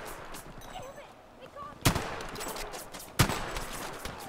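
Gunfire in the video game Battlefield V, two sharp loud shots standing out over a busy background of distant battle noise and clatter.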